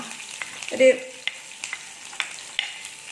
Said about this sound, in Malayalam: ഇതിലോട്ട് ഈ വെളുത്തുള്ളി അരിഞ്ഞ് വെച്ചത് ഇതിലോട്ട് ഇട്ട് കൊടുക്കാം